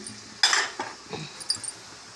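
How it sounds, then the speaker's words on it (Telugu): A spoon stirring tamarind leaf dal (chintha iguru pappu) in a pot, a few close scraping and clinking strokes against the metal over a faint simmer. "ఇప్పుడు మిక్స్ చేసుకుందాం."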